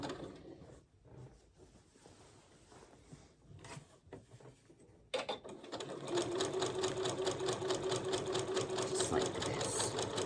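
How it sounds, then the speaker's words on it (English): Sewing machine zigzag stitching across rope, starting after a few seconds of quiet handling and rustling, then a steady, fast mechanical chatter with a rhythmic whirring hum, close and continuous to the end. "I zigzag across the rope"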